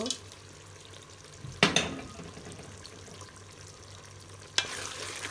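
Spices fry in a pan for chicken curry, giving a low, steady sizzle. Two sharp clatters of stirring or something being added stand out, one early and one near the end.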